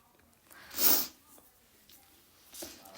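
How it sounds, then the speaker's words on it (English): A person with allergies gives one strong, close sniffle, then a softer second sniff a moment later, with no talking. "Sorry I'm sniffling so much."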